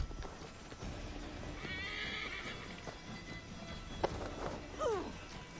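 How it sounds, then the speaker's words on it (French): A horse in the video game Assassin's Creed Valhalla neighs loudly over clopping hooves, with a couple of short sharp clicks and distant background noise. "Et un putain de cheval."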